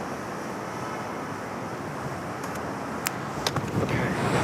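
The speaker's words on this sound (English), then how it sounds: "It's a little windy." Wind blows outdoors as a steady broadband rush buffeting the microphone, with a few brief clicks and rustles near the end, no voices over it.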